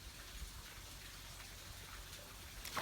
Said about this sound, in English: I don't know if you can hear the rain outside,